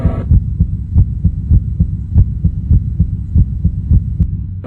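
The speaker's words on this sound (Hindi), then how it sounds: "दोनों की धड़कनें बढ़ती जा रही थी।" A heartbeat sound effect in a Hindi horror story beats in a steady, thumping double rhythm, deep and close, repeating about twice per second under a low hum with no speech.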